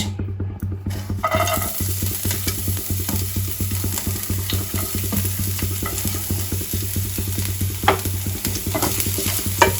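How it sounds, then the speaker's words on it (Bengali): Finely chopped garlic and small-diced onion fry in hot oil, sizzling steadily and close up for the whole stretch, with repeated stirring scrapes over a constant low hum and no talking. "ওই তেলের মধ্যেই এবার দিয়ে দেবো একদম কুচি কুচি করে কাটা রসুন, আর সেরকমই ছোট ছোট করে কাটা পেঁয়াজ।"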